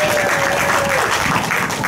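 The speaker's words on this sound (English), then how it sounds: "a little special cheering on here" Crowd at a high school game cheering and applauding steadily throughout, a dense wash of clapping and voices with one brief whistle-like tone early on.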